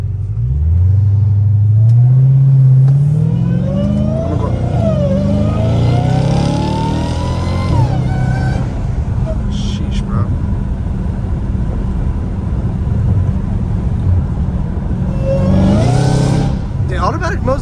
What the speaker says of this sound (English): you'll hear literally the whole entire exhaust